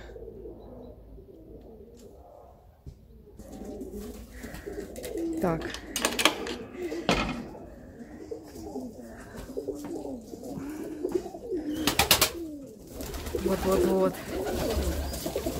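Pigeons coo in soft, repeated burbling calls inside a dovecote, with a few sharper wing flutters or movements mid-clip; someone speaks briefly near the end.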